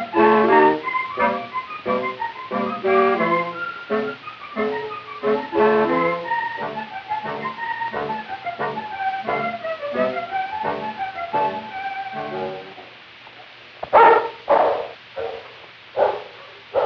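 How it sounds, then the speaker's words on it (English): A team of seven sled dogs barking and yipping in steady, rhythmic bursts while the musher calls out to start them on the trail, with a few louder, sharper barks near the end. "Again the cry, whit, whit, and George has started his seven dogs on the 2-day trail back to Moose"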